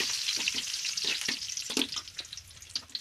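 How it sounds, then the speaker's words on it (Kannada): Chickpeas sizzle and crackle loudly in a hot pan, broken by repeated scraping stir strokes in an uneven rhythm, close up with no voices. "ಕಡಲೆ ಚೆನ್ನಾಗಿ ಫ್ರೈ ಆಗ್ತಾ ಇದೆ"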